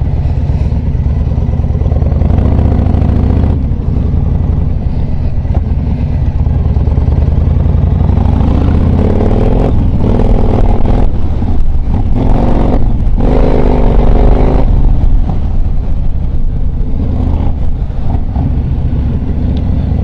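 A Yamaha XV1900 Star Raider cruiser motorcycle rumbles steadily while being ridden, its loud low engine note rising and falling with throttle changes and some mechanical clatter, recorded close and with no talking.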